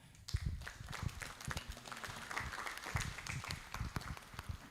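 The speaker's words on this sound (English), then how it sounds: "A round of applause to her." Applause from an audience at a panel talk on policy and corruption, a steady patter of many hands clapping throughout, with a few louder claps standing out near the start.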